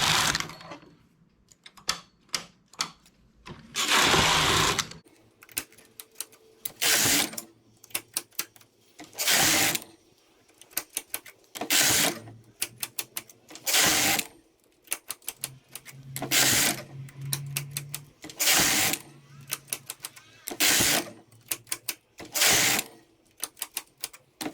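Knitting machine carriage sliding back and forth across the needle bed row after row, loud rattling sweeps separated by brief pauses and clicks, close by and without talk.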